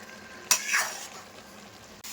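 Chicken curry frying in a pan as it is stirred, a sharp scrape of the utensil followed by a sizzling sweep that fades into a low steady fry, close and alone without talking.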